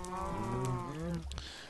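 A cow in Minecraft lets out a long, loud, close moo with a falling pitch, followed by a brief quieter tail.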